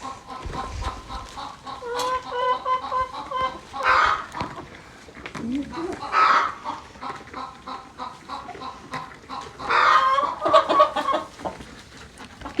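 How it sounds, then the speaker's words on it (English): Chickens eat corn nearby, their loud clucks and squawks coming in repeated bursts over a background of scratching and pecking, with occasional voices in between. "Even the chickens"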